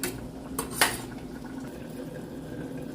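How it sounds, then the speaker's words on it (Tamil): A metal lid lifts off a pot of simmering Jaffna-style prawn, dried fish and eggplant curry with two quick clanks, followed by a faint bubbling hush. "குழம்பை இப்போ திறந்து பார்ப்போம்"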